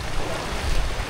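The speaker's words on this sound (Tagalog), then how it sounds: "Yung malakas ng alon." Strong waves churn on the Maples River in Pangasinan, a dense, steady rush of water mixed with wind buffeting the microphone, close and fairly loud.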